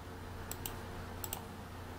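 A few faint, sharp clicks of computer keyboard keys being pressed, in two quick pairs over a quiet background hum.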